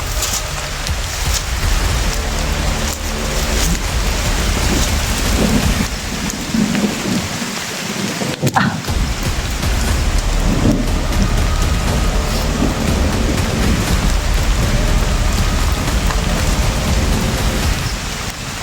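Heavy rain pounding down in a steady, loud roar, with rolling thunder rumbling underneath throughout and a brief lull midway before the downpour surges again.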